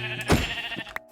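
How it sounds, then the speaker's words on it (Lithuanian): Minecraft sheep bleating in a single short call up close, with a faint extra game blip at the end. "aš gal dar avis nužudysiu"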